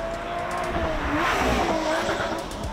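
A Lotus Exige S Roadster with a bimodal exhaust drones steadily with a continuous engine note and some road or tire noise, loud and close throughout.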